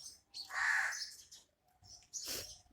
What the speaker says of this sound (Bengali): পাখিগুলো কি সুন্দর ডাকছে